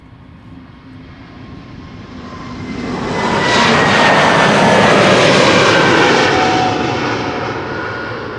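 Vueling jet airliner departing Amsterdam Schiphol for Bilbao, its engine roar swelling from a distant rumble to a loud, close, hissing peak, then slowly easing off as it passes, with no talk.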